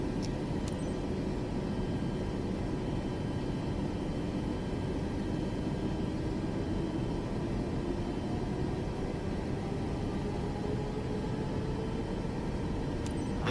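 Steady, unbroken jet-engine whine and rumble of a Boeing 737 MAX 8 taxiing in Microsoft Flight Simulator 2024, with an even cabin-like drone throughout and a faint click near each end.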